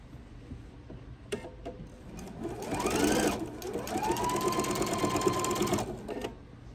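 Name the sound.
sewing machine stitching a tree skirt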